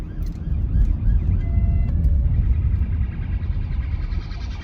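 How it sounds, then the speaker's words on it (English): A police car siren passes on the road in Exeter, its faint wailing tones heard from inside a 2013 Mk7 VW Golf TDI, partly masked by the loud, steady cabin and engine drone. "Oh, police car."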